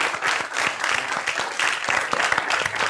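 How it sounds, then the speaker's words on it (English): Audience clapping for a panel at a personal-branding event, a dense, steady round of applause with scattered sharp hand claps filling the room throughout. "So I'd like us to give everybody on the panel a big round of applause."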